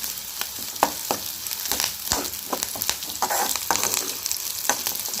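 Onions and spices sautéing in a pan for a carrot and potato stir-fry, a constant sizzle broken by sharp scrapes and clicks of a spatula stirring, close and moderately loud.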